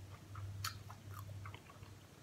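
Soft, close crunching and chewing of salmon and tuna sashimi with soy sauce, a few quiet bites under a low background hum.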